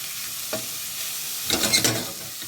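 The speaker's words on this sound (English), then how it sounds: "Just making sure all the onions are covered in the oil." Onions fry in oil in a pan with a continuous close sizzle, broken by a brief scrape at the start and a louder burst of stirring toward the end.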